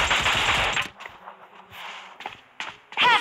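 Video game gunfire: a dense, loud burst of rapid automatic shots at the start, then scattered sharper single reports and game effects, with no talking.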